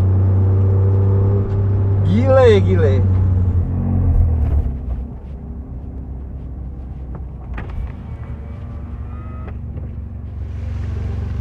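A Toyota GRMN Yaris runs on the Mandalika circuit, its engine rumbling loud and close with a sharp rising rev near the start, then settling into a steady drone as someone speaks briefly.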